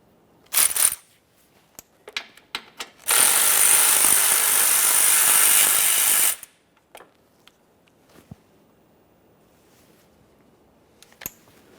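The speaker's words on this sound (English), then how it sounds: "We're going to dislodge that by removing two 10mm headed mounting bolts." Loud, steady broadband whir from a power tool or impact driver runs for about three seconds while removing 10mm-head mounting bolts under a 2004-2008 Ford F-150, framed by scattered clicks, taps and clanks of tools and hardware.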